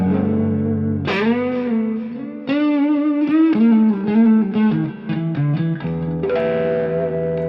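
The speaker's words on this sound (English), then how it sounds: "I tweak a bit the medium plate to have such kind of incredible reverb." An electric guitar plays a sustained melodic line, notes ringing into a wide, smooth medium plate reverb tail that lingers between phrases.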